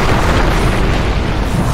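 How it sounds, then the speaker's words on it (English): Heavy booming explosions from a tower being attacked in the Dota 2 video game, a dense continuous rumble of blasts, loud and close, with no voices. "Radiant's bottom tower is under attack."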